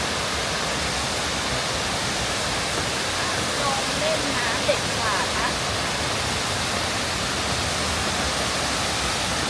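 A strong waterfall at Khao Kho in the rainy season roars as a steady, loud, broadband rush that fills the whole stretch, with faint voices mixed into the constant wash.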